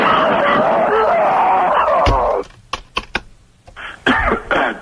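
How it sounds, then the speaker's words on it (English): A man fakes a cough while pretending to be sick, a short throaty hack heard after a stretch of talk and followed by a few sharp bursts. "I like the fake cough"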